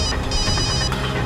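A telephone rings in a Hindi crime drama scene, a continuous electronic ringtone with bright tonal warble filling the short moment, close and fairly loud with no voices.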